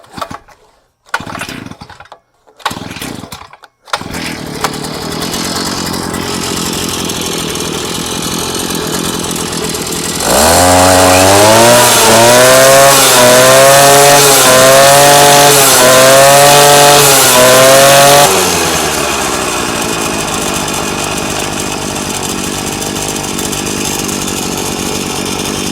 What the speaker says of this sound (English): Not a bad startup for a new engine.